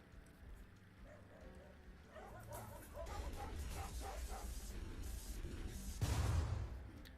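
Several dogs bark and yip in the video game Awkward Dimensions Redux, a run of short repeated barks growing busier and louder toward the end over a low background hum.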